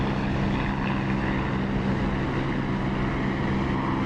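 Propeller aircraft engine in DCS World flight simulation, throttled back to reduced RPM, giving a steady, loud, even drone with a constant low hum and no pauses, heard close as if from the cockpit.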